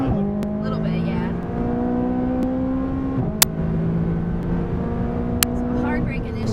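A McLaren 570S accelerates on a race track, its steady engine note rising in pitch and holding close and loud throughout, with people talking over it.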